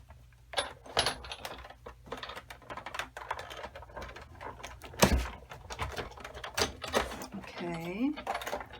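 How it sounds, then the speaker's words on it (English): A Stampin' Up Big Shot die-cutting machine is cranked by hand with a layered card and cutting die inside, producing a run of close, rapid ratcheting clicks and knocks, one heavier thud midway, and a brief voice near the end. "And then I'm going to layer it and throw it through the Big Shot."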